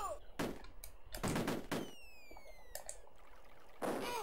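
Gunfire from the Amiga game Cannon Fodder: several bursts of sharp shots separated by pauses, loud and close, with faint game tones sweeping in between and no talk over them.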